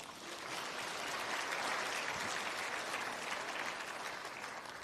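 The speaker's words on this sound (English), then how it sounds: "Give yourself applause." An audience claps steadily in a sustained, dense round of applause that holds at an even loudness throughout, with no voices on top.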